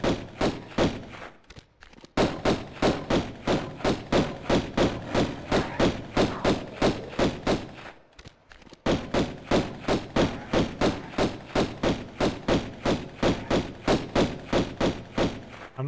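Pistol fire in Tomb Raider Remastered: a long, rapid, evenly spaced run of punchy shots, about two per second, with a brief pause midway before the steady firing resumes.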